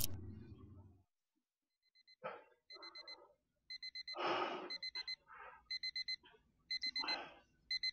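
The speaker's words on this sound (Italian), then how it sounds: "Ecco di nuovo la sveglia" An alarm clock in the horror video game Dungeon Nightmares II rings in short repeated bursts of shrill beeping, mixed with bursts of noisy rustling and panting sounds.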